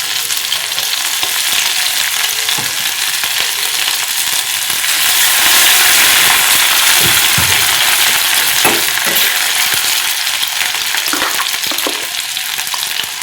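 Whole spices, cinnamon, bay leaf and cardamom, with ginger, garlic and a chilli frying in melted ghee, giving a steady loud sizzle with occasional stirring scrapes, no voices.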